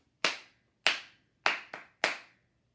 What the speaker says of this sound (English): when I clap this rhythm, ta, ta, ta-dee,